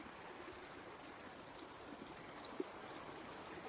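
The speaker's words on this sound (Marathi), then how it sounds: "तर हे बघा आमच्या शेतातून कसं पाणी वाहत आहे मक्यातून." Floodwater flows steadily through a flooded maize field after heavy rain, a continuous broadband rushing wash at moderate distance with one brief knock partway through, no voices.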